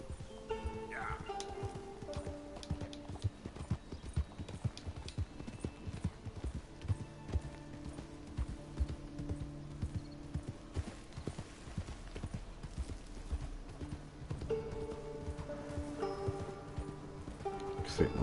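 Steady clip-clop of horse hooves during a leisurely ride in Red Dead Redemption 2, a continuous rhythmic trot close by with ambient outdoor sound and someone talking over it at times.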